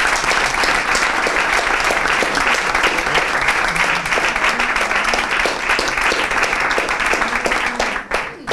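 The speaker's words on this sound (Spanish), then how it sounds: "Muy bien, un aplauso" Loud, sustained applause from the congregation at a Mass in a residence for the elderly, with the image of Our Lady of La Amargura presiding. Close, dense clapping holds steady for several seconds, then breaks off abruptly near the end.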